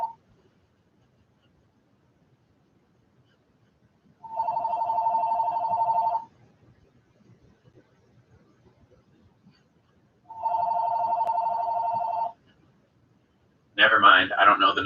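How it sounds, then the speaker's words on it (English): A mobile phone ringing with two separate bursts of a steady electronic tone, each about two seconds long and several seconds apart, clear and close in an otherwise quiet room, followed by a short burst of someone talking. "My phone's ringing, everybody."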